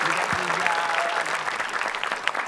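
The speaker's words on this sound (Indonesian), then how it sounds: "kita beri tepuk tangan buat kita tim" Studio audience at an Indonesian TV quiz show claps for a team, dense, steady applause throughout, close and loud with bright, crisp hand claps and a few cheers.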